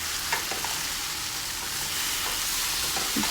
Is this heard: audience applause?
no